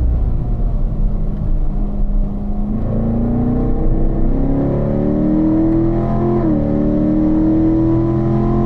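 A Corvette's engine drones steadily on a race track at a performance driving school, then its pitch climbs smoothly as it accelerates, dips once briefly and keeps rising, loud and continuous.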